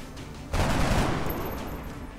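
A burst of gunshots fired in the XCOM Long War video game, a sharp loud volley that erupts after a quiet lead-in and then trails off into a lingering rumble.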